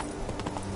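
Horse in The Witcher 3 galloping, quick rhythmic hoofbeats thudding close and clear over a brief rough stretch of ground.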